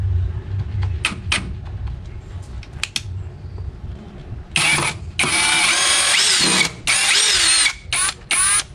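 A Keelat 4-in-1 cordless tool runs in screw mode, giving a few short mechanical clicks and then several loud motor whirs in quick bursts with brief pauses between them.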